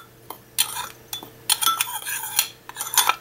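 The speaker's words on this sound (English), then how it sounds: "I'm going to stir it around." A utensil stirs pancake batter mixed with salt and cinnamon in a bowl, giving close bursts of clinking and scraping in an uneven rhythm.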